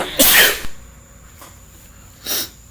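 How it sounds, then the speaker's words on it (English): A single loud, close human sneeze bursts out, followed by a short sniff and then a second, softer snort or sneeze-like exhale about two seconds later, with no other sound around it. "I had to sneeze like crazy."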